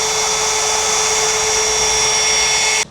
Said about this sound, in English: I'm gonna use this little Milwaukee belt sander, which is actually pretty useful